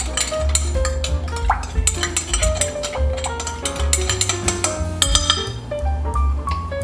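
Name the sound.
stirring minced garlic in a cooking pan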